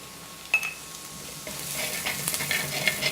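Coriander powder sautéing in a pan of green peas curry, giving a soft steady sizzle with a few light scraping stirs and utensil clinks close by, no talk.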